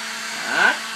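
A hair dryer runs with a steady, close, whirring blow that swells briefly toward the end, with no one talking.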